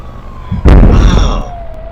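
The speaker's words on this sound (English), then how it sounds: "that was an explosion. You heard that, right? You heard the thump." A single loud explosion from Grand Theft Auto III sets off a deep booming thump and a brief rumbling tail, with a siren-like tone sliding in the background.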